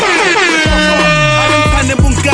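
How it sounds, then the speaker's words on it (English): Two loud, deep air horn blasts cut through a busy music track, each a sustained low drone over the beat. "You know when the air horn goes off"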